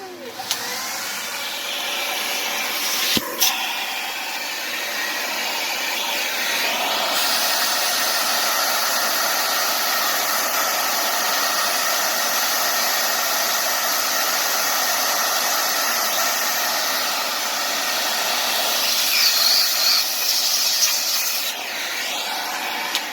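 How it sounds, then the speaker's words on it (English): A vacuum cleaner pulls debris out of an Arrma Kraton EXB RC car during a rear differential swap, a loud, steady close roar with a brief knock as it starts and a slight change in pitch near the end. "So I'm going to get a vacuum and pick that out."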